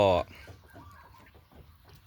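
A chicken lets out a loud, sharp squawk right at the start, followed by a run of softer, rhythmic clucks close by.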